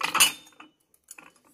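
Ceramic plates, Japanese and French tableware sold off cheaply, clink as they are handled and stacked, a burst of clatter at the start and a few lighter taps after a pause, close and alone.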